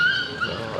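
A dog whimpers and yips briefly in a short, fairly loud burst of high whining tones, nearby and alone without talk.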